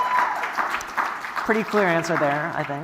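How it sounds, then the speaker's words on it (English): Audience applause at a live panel recording, a broad crackling wash of clapping throughout, with a voice talking over it for the second half. "round of applause."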